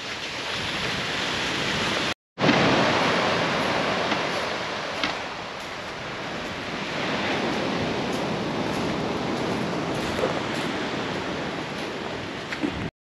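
A waterfall in the Philippines gives a dense, steady rushing roar of falling water, loud and continuous, broken by a brief cut early on, with no voices heard.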